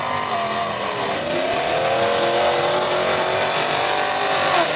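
Demolition derby cars at the Juneau County Fair in Mauston, Wisconsin, with engines revving loudly and continuously and tires squealing as they drive around the arena, a steady roaring mass of motor noise without clear crash impacts.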